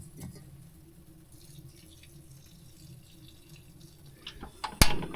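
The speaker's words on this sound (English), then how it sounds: "I'm really only gonna wash my rice once because I don't have an abundance of water right now" Rice is rinsed once in a pot of water while camp cooking in a forest, with soft swishing and trickling close by, then sharper splashes and a bright clatter near the end.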